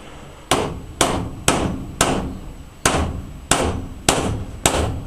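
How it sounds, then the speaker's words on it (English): A hammer strikes steel that has been heated by resistance heating, landing eight sharp, ringing blows at an even pace of about one every half second. Each blow is close and loud, with a short decaying ring. "let's hit that steel a few blows of a hammer there"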